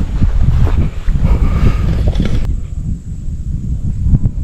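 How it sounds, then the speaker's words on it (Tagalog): Strong wind at Sitio Baag, Tarlac buffets the microphone in loud, continuous low rumbling gusts, steady throughout with no voices. "Ay grabe ang hangin oh."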